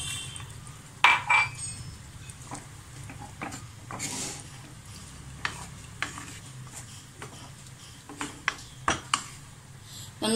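Water is poured into a bitter gourd curry cooking in a pan, with a steady sizzle and bursts of stirring. Spoon clinks against the pan are close and clear, and no one talks.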